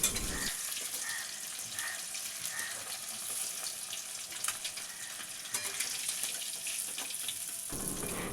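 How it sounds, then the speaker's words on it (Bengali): Fish heads fry in hot oil until reddish-brown, made for a Bengali fish-head dal. A continuous close sizzle and crackle runs throughout without talk, with faint brief clinks near the start. "এই যে আমার মোটামুটি লাল করে ভাজা হয়ে গেছে মাছের মাথাটা।"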